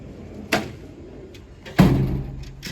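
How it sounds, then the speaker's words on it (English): A toolbox drawer slides shut, with a soft knock near the start and then a louder thud that rings on briefly. "So now we're closing this drawer."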